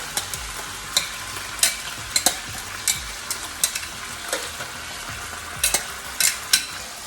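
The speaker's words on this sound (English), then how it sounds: "So here comes the shrimp. I'm gonna add it all." Shrimp frying in a pan for spicy garlic shrimp with zucchini noodles: a steady close sizzle broken by repeated scraping and clacking of a utensil as the shrimp are stirred, no talking.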